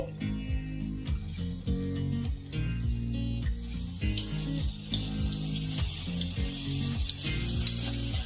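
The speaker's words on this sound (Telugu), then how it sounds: "ఇప్పుడు మన ఇంగ్రీడియంట్ బీట్రూట్ వేస్తున్నానండి" Beetroot tipped into a hot pan for a beetroot rasam, giving a steady, close frying sizzle with scattered stirring and scraping clicks throughout, no voices.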